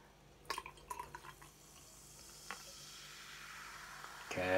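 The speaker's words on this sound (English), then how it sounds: "the amount of bubbles coming off the top" Mountain Dew Ice lemon lime soda fizzing after being poured, a cluster of close clicks and drips early on, then a soft rising hiss of bubbles, ending in a brief louder burst.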